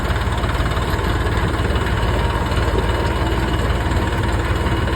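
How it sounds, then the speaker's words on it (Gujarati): A tractor engine idles steadily at close range, a low, even diesel rumble with faint knocking and vibration, running continuously with no talk. "તો જો ગેસ આ ટ્રેક્ટર છે આપણે ટ્રેક્ટર લઈને જવાનું ખેતર બરાબર"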